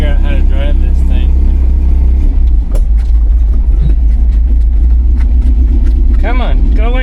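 Off-road vehicle engine idling loud and rumbling up close, revving briefly while a speaker talks over it.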